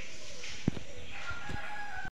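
Rooster crowing at a home poultry yard, a single fairly faint call heard at a slight distance over a steady background hum, with no talk.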